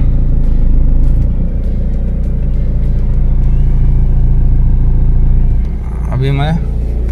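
A manual car creeping forward on the clutch alone, no throttle, gives a steady, loud, low engine rumble that holds through the whole stretch, with a brief higher tone near the end.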